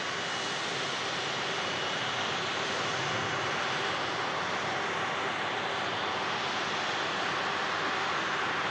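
A FlexJet business jet takes off from Manchester Airport, its engines a broad, steady, distant roar that holds constant throughout with no other sounds over it.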